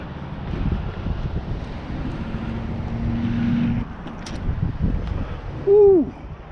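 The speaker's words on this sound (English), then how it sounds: "I got a little bit of wind coming." Wind blowing outdoors on an open throw-stick golf course, a steady low rumble with gusts buffeting the microphone, followed near the end by a short rising whoop from a voice.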